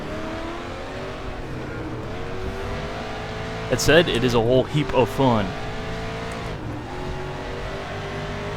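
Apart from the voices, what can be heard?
1992 Mustang DTM race car in RaceRoom video game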